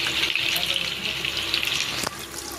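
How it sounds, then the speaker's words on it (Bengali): A kitchen tap runs in a steady, close hiss as hands are washed, with a short clatter near the end and a faint voice in the background. "ধর আমি হাত ধুতে যাবো"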